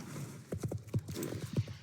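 Horse hooves in the Star Stable video game clip-clop in a steady rhythm of soft, muffled thuds, fairly faint over a low background murmur.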